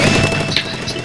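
A Splatoon bomb bursts in a Turf War match, a brief, dense crash of noise with a thudding low end, loud and close, filling the whole short moment.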